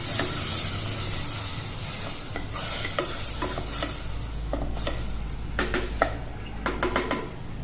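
Onion and tomato paste sautéing in a pan, with a steady soft sizzle broken by clustered scraping and clinking stirring strokes that grow busier toward the end, close up with no voices.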